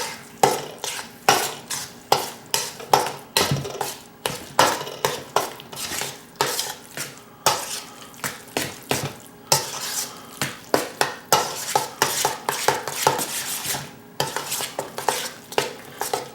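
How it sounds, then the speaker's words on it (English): Pumpkin pie mixture stirred in a bowl, a steady run of close scraping and clinking strokes of utensil against dish, repeated rapidly with brief pauses, no voices. "kind of mix it up a little bit here"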